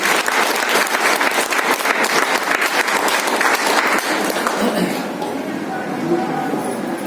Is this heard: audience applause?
yes